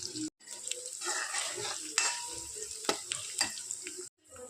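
Onion and garlic paste frying in a pan for a capsicum masala, giving a steady close sizzle broken by a few sharp clinks and stirring scrapes, with a brief silent gap at each end.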